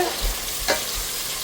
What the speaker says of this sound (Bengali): পেঁয়াজ সোনালি কালার হওয়া পর্যন্ত ভাইজা নিব তো এখানে পেঁয়াজ ভাজা হচ্ছে